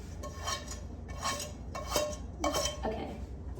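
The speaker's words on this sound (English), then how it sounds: "let us get a pot out. I got my handy dandy pot." A metal cooking pot being pulled out and handled in a kitchen, with several distinct clanks and clinks of cookware spaced out over a few seconds, close and fairly clear with no talking.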